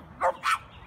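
A dog close by gives two quick barks in a row, alone against a quiet background.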